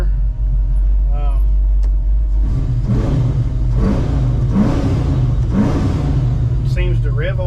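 A car engine fitted with a newly installed MSD Pro Billet distributor idles with a low rumble, then revs up sharply several times in quick bursts before settling, loud and close.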